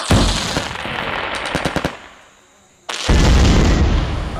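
A Diwali firecracker string bursts after its wick is lit, crackling in loud rapid volleys like machine-gun fire, pausing into near silence for about a second, then erupting again in a dense close roar.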